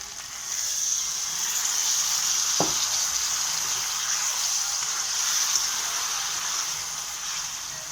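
Chicken and greens frying in a pan sizzle steadily after water is poured in, with one sharp clink of a utensil early on and no talking.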